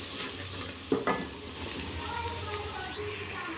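Garlic sizzles and fries in a pan while dal is prepared, a steady dense crackle with a couple of brief stirring clinks near the start, heard alone and close.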